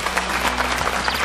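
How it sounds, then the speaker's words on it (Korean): An audience claps together during a Korean talk show segment on scalp care and hair loss, a brief, dense burst of applause with some voices underneath. "박수 한번 주세요"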